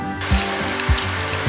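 A meatless cutlet frying in oil over a medium flame, giving a steady close sizzle broken by a few soft low thumps.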